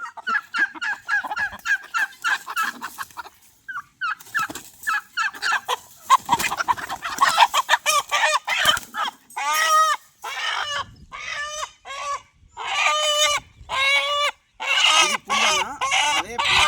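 Native hens and a crossbred rooster cluck and squawk repeatedly in a busy, close cluster of calls, growing louder and more frequent as it goes on.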